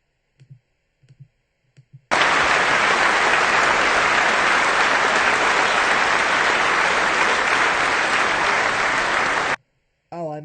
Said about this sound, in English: A few of them did actually clap for this, I guess.